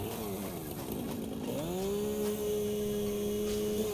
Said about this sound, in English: Get my chainsaw out.